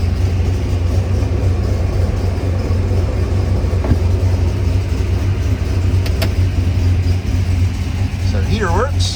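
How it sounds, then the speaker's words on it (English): A steady loud blowing rush from the heater fan on defrost inside a 1970 Ford Torino Cobra SCJ, continuous airflow over a low engine rumble, with a few faint clicks and a short squeak near the end. "The fan onto heat, and straight away you can hear it."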